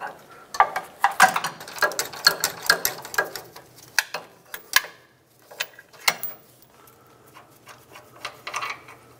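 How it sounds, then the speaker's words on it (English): A long ratchet with a 19 mm socket works a tight bolt on a 1996-2002 Toyota 4Runner's front lower control arm, giving close, sharp clicking bursts in uneven runs. "Try to sneak a ratchet with a socket in there"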